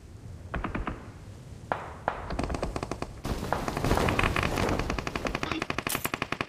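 Gunfire in a battle royale video game: scattered single shots give way to dense automatic bursts, loud and close, continuing in rapid rhythmic volleys with no talking.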